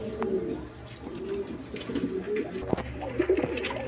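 A pair of Homer pigeons, one male and one female, coo repeatedly in low, rolling phrases at close range over a faint background hum, the calls clustering more densely toward the end.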